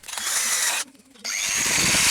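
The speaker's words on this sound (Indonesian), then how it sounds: "Kemudian bor seperti ini." A power drill bores into a lightweight steel hollow tube with a loud, harsh grinding whine. Two bursts are separated by a brief quiet pause.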